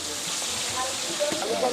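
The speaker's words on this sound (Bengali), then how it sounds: "রান্না তো এখন মাছ তো ইলিশ মাছ ভাজা হচ্ছে" Hilsa fish coated with turmeric and salt fry in oil for a village Hindu shraddha feast, giving a steady broad sizzle with faint scattered clatter and background murmur.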